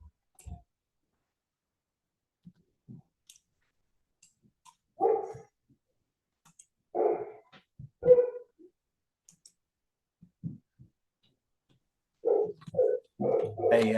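A dog barks indoors in a home setting, with several short sharp barks in scattered bursts between long quiet gaps, ending with a quicker cluster of barks, moderately close.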